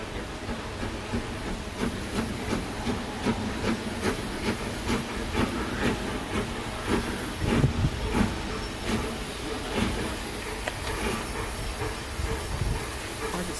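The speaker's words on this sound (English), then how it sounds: "Just before it reached us, the train came to a halt." Steam train on a heritage railway rolls along with hissing steam and rhythmic rail clatter, moderately distant and steady, no voices.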